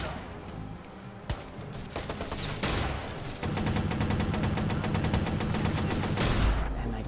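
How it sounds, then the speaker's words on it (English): Rapid bursts of gunfire in the Watch Dogs video game, including shotgun blasts, crackle in dense repeated volleys that grow steadier and louder toward the end. "Who the heck is shooting me with the shotgun?"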